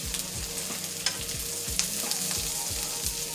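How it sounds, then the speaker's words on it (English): A scallop sauce for a seafood medley sizzles loudly in a hot pan, with a steady frying hiss and repeated scraping strokes as it is stirred. "I need this really sizzling really fast."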